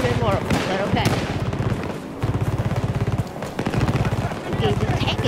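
Rapid automatic gunfire rattles in long bursts with short pauses in the video game Battlefield 2042, loud and close, with a voice talking over it.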